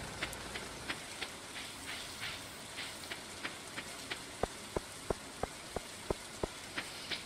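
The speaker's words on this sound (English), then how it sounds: "this rain is getting on my nerves" Rain in the farming video game Stardew Valley, a steady soft patter with regular small tapping drops, quiet and continuous, with no voice over it.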